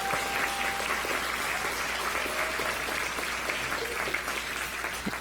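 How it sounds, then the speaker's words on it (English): An audience at an awards ceremony during an annual general meeting applauds with steady, dense clapping that stays loud and even throughout, with faint cheering mixed in. "So let's give Michael a round of applause."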